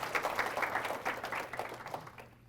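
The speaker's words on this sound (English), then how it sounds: "Give him a round of applause." Audience applause for an absent honoree, dense clapping that holds steady for about two seconds and then begins to fade at the end.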